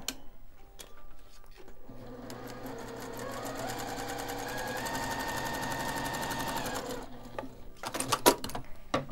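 A sewing machine stitches a fabric strip onto a quilt block in a steady, fast mechanical rattle that runs for several seconds, then gives way to a few louder, uneven clacks near the end.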